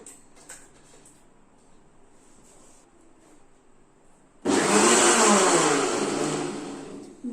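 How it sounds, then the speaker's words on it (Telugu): After a few quiet seconds, a mixer grinder switches on to blend mango, with a loud, steady whirring roar that stays strong to the end. "మ్యాంగోని మిక్సీ జార్లో వేసుకొని మిక్సీ పట్టుకోవాలి"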